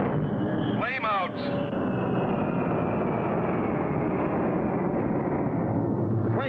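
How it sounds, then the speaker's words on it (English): A cartoon jet engine flaming out over the ocean during a long test flight: a steady loud roar with a brief warbling whine near the start, continuing as a dense rumble throughout. "Flame out. The most frightening sound for any jet pilot."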